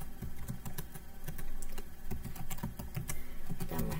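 A password being typed on a computer keyboard to log into a Cisco device. Rapid, close key clicks run in uneven bursts throughout, with no voice.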